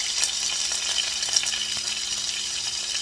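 Stuffed chicken frying in a non-stick pan gives a steady, moderately loud sizzle and crackle that runs unbroken, with faint stirring or shifting sounds and no voices.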